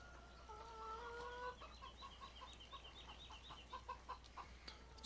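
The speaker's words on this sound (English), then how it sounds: "Here's our chickens" Chickens clucking in a Farming Simulator 17 farmyard, a run of soft repeated clucks and chirps at low volume, fairly close and with no talking.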